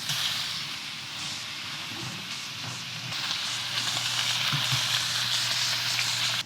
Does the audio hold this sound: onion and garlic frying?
yes